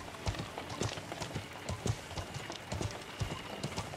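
Horse hooves clip-clopping in the Feudal MMO video game, a steady run of close, moderately loud hoof strikes over sandy ground with faint background noise and no talk.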